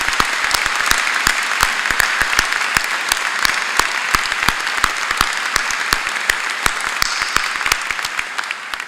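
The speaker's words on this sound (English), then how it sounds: "we should actually start with a round of applause for our new Chancellor" Sustained applause from a large graduation ceremony audience, dense clapping filling a big hall at a steady level throughout.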